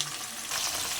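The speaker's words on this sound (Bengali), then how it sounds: "এখন ভাজা হচ্ছে" Phesa fish coated in salt and turmeric sizzles in hot oil, a faint, brief, steady hiss and crackle.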